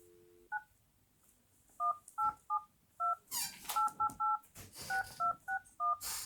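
Telephone keypad dialing tones redialing into a conference bridge, roughly twenty short beeps in irregular quick bursts, close and clear, with brief rustling bursts between them and no speech.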